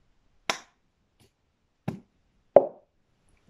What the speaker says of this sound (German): Einmal in die Hand klatschen, den Becher nehmen, gegen die Öffnung und auf den Boden